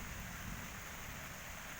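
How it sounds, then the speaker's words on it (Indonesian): Steady outdoor rain falling under an overcast sky in a natural setting, a constant soft hiss and patter with no breaks. "Dan suasananya emang lagi turun hujan."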